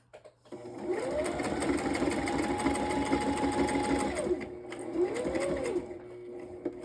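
Sewing machine stitching around a paper pocket for a journal page, a close whirring motor run of about three seconds, a short pause, then a second shorter burst.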